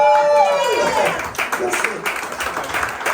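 Audience applause in a radio studio, scattered claps starting under a fading voice and a held musical note, then growing into steady, moderately loud clapping.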